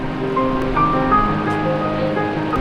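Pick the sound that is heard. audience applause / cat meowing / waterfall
waterfall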